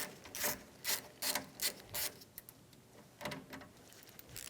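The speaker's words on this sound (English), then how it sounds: "Using a 10mm socket, we're going to remove the bolts for the lines for the condenser." Ratchet with a 10mm socket loosening AC condenser line bolts on a 2005-2015 Toyota Tacoma, a series of quick close clicking bursts in an uneven rhythm, with a short pause partway through.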